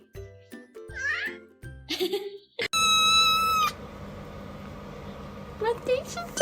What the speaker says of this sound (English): What are you meowing at?